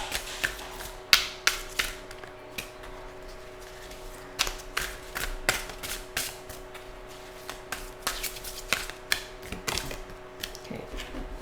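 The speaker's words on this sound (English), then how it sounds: "Last shuffle, Spirit." A deck of cards being shuffled by hand in a tarot-style card reading gives a run of quick, crisp riffling bursts and taps, close and fairly soft, repeating in an irregular rhythm with no talk.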